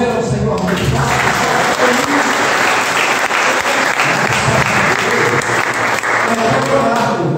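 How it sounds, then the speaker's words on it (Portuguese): A church congregation applauds steadily during a family worship service, dense sustained clapping filling the room from start to finish at full volume. "Você pode aplaudir ao Senhor muito fácil."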